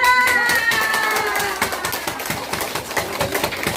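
Audience applause at a laughter therapy session, starting as crowd noise and voices, then settling into rhythmic clapping from many hands, fairly close and loud.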